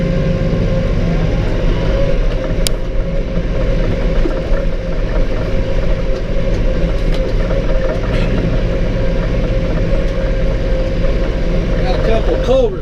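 A Massey Ferguson tractor engine running on a hay field, a loud, steady low diesel rumble throughout, set to 540 RPM throttle, close to the listener.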